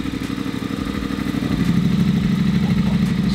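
Custom wide-wheel bobber motorcycle idling with its valved exhaust opened, the engine note turning louder and deeper midway, a close, rhythmic throbbing rumble.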